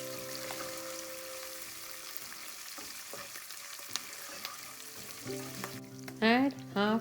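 Red chilies frying in a pan for ginger chutney, a steady close sizzle with faint stirring clinks, followed by a few louder scraping strokes near the end.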